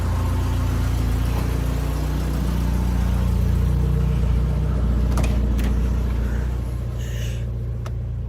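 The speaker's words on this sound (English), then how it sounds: "I heard it engage, wheels are spinning, I can hear them" A Toyota Tercel 4WD with automatic transmission runs in gear, wheels spinning, producing a loud, steady engine hum and whir close by that continues without a break.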